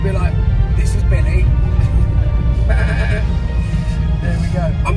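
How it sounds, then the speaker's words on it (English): Sheep bleat in short repeated calls over steady low rumble and chatter, heard backstage at an arena while people talk. "It's a sheep."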